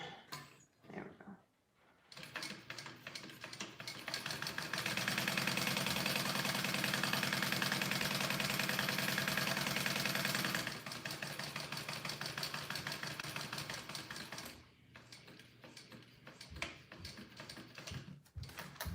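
A sewing machine runs in a long steady burst stitching straight lines through fabric for a dragon sling, a fast even mechanical whir close by, with short starts and stops before and after.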